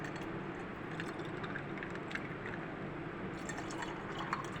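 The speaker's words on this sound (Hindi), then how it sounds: "ठंडा पानी डालेंगे मज़ीद इसमें।" Cold water being poured into raw mango sharbat in a glass or jug, a quiet, continuous liquid splash and gurgle with small drips and trickles close by.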